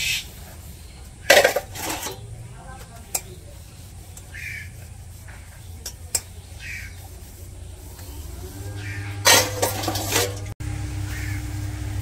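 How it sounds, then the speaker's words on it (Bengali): Plates and bowls being washed by hand in a village home, with clattering knocks of dishware and splashes in bursts over a quiet background and a steady low hum, now and then a faint voice. "তো এইদিকে থাল বাটি হয়েছে, সেগুলো ধুয়ে নেই"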